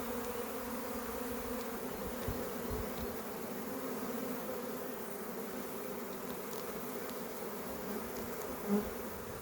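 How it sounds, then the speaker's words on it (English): A honeybee swarm hums steadily and densely as it moves into a nuc box, the buzzing close and continuous with a faint rise in intensity throughout. "all these bees have shifted into overdrive and they're moving really, really fast"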